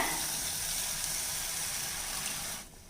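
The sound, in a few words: pouring water into a pan of sautéed egg curry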